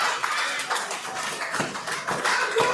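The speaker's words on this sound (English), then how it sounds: "as they clap their hands in support for Dewey" A wrestling crowd at an indoor show claps hands in support of a downed wrestler, a steady rhythmic clapping from many people that swells and continues throughout the whole stretch.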